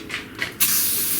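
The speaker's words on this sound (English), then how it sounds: "Spray a little WD-40 in" WD-40 sprayed from an aerosol can into a seized 1937 Briggs and Stratton Model A engine: a loud, steady hiss that starts abruptly after a couple of faint shorter puffs and holds to the end.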